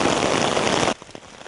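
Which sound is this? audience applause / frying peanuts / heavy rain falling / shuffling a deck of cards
heavy rain falling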